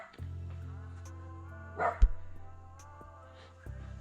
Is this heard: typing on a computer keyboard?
no